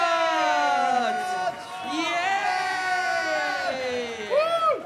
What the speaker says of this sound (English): please clap your hands, stamp your feet, and go absolutely wild for the men with coconuts!